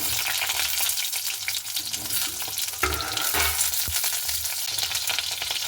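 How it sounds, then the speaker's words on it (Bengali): Pointed gourd pieces frying in hot oil in a wok, a loud continuous sizzle with clattering stirring scrapes and a sharp crackle as the vegetables hit the oil. "এবার দেখুন তেলটা খুব ভালো মতো করে হয়ে গেছে এবার আমি পটলগুলোকে দিয়ে দেবো"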